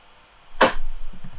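A tight, punchy clap sample cut short by an envelope gate, sounding as one sharp, bright hit with almost no release tail, followed by faint low thumps.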